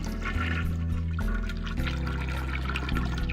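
A toilet flushes in the adventure game Ben Jordan Paranormal Investigator after toilet paper has been thrown into the bowl. Steady gushing and pouring water runs over sustained background music with low drones.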